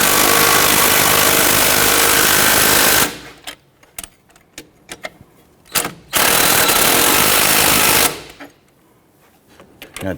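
Strut nuts on a 2006-2014 Honda Ridgeline 3.5L V6 are driven tight by a rapid hammering impact wrench, with a long three-second burst, a brief blip and another sustained run, separated by quieter clinks and shop noise.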